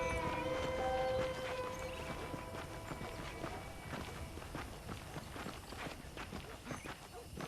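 Horse hooves clip-clop at a steady walking pace in the Western video game Red Dead Redemption, repeated soft hoof strikes with faint ambient game sound and no talk.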